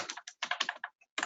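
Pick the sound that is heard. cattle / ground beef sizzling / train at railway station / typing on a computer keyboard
typing on a computer keyboard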